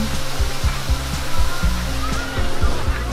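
A stream rushes over its streambed at the Ao Vua tourist area, a steady, loud wash of water noise filling the short stretch.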